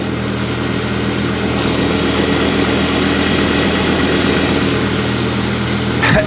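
A car engine idles steadily with its A/C compressor running while refrigerant is recharged, a continuous loud hum with a brief change near the end as the compressor cycles.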